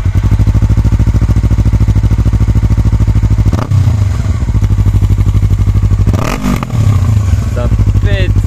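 Yamaha R3 twin-cylinder motorcycle with the exhaust baffle still fitted, idling with a fast steady pulse and blipped by a few sharp revs, loud and close, with people talking over it.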